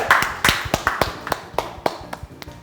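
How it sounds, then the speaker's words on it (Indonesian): Audience clapping at a church anniversary talk event, made of sharp, distinct claps in a loose rhythm of roughly a dozen strikes, loud at first and gradually thinning out. "Bapak Pendeta Yudi Murid, berikan tepuk tangan."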